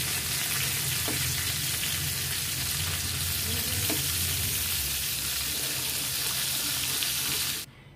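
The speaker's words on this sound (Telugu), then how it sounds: "తిప్పి ఇటువైపు కూడా బ్రౌన్ కలర్ వచ్చేంత వరకు ఫ్రై చేసుకోవాలి." Fish pieces frying in oil in a pan, a steady, loud, continuous sizzle with faint clinks, cutting off abruptly near the end.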